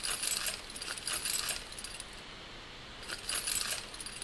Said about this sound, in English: And that sound is me jingling my keys into my mic to make a pickup sound.